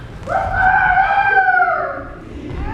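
A rooster crows once, a long loud cock-a-doodle-doo close by, tapering off at the end, with faint outdoor noise underneath.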